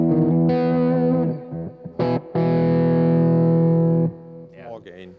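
Electric guitar through an AMP1 Iridium Edition amp on its classic channel, a high-gain Marshall-style distorted tone, played as loud sustained chords and notes with a short choppy break, close and dry.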